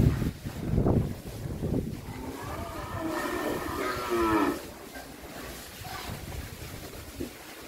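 Cattle moo at a breeding farm in Vinh Long, several drawn-out low calls rising and falling in the middle, with scattered voices and farm noise around them.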